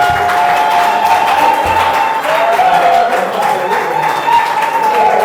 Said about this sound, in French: Si elle vient signer, vous applaudissez.